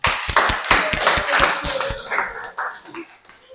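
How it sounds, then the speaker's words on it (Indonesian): A classroom of students gives group 3 a short round of applause, sharp hand claps ringing out up close at first, then thinning into scattered claps before fading. "Oke, akan beri aplaus."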